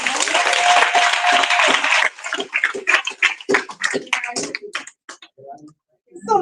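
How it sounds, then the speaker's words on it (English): Audience applause for a newly introduced candidate at a town hall meeting, two seconds of dense clapping that breaks off into scattered claps, murmurs and a few voices before going quiet. "Give him another round of applause,"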